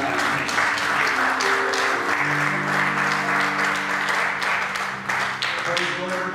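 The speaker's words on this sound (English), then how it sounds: "Let's give the Lord a hand clap of praise for God." A church congregation claps in praise during a Sunday service, a steady wash of many hands, loud and continuous, with sustained organ or keyboard chords ringing underneath.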